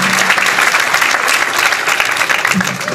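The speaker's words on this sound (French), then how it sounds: "Alors applaudissements pour lui." Crowd applause at an 80th anniversary commemoration of Camp de Thiaroye in Senegal, a continuous dense wash of clapping at steady loudness throughout.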